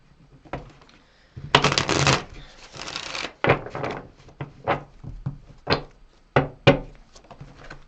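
Tarot cards are shuffled by hand close up: two long riffling bursts of cards riffled together, followed by a series of short sharp taps and slaps as the deck is squared and cut.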